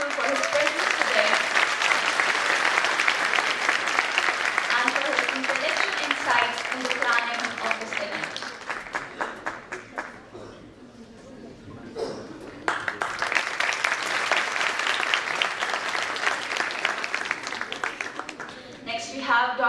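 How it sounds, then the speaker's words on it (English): Audience applause at an academic event, a long steady burst of clapping from a crowd, with a speaker's voice heard over and between the applause. "Please give him a big round of applause."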